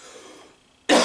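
A single sharp cough from a podcast host, loud and close, bursting out suddenly after a stretch of near-quiet room tone.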